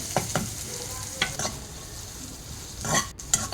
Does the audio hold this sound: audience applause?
no